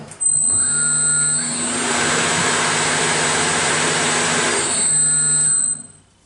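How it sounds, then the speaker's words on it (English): A tire changer machine mounts a tire onto a wheel rim with a loud, steady mechanical whir. The whir ramps up, holds for several seconds, then winds down and stops. "continue pulling the tire up onto the wheel"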